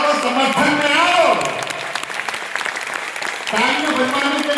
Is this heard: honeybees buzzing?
no